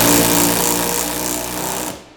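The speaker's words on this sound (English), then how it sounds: "We use an impact gun." An impact gun driving an EZ-Dock poly coupler nut through a drive tool in a 15/16 socket, a loud, close, continuous rapid hammering burst lasting about two seconds before stopping abruptly.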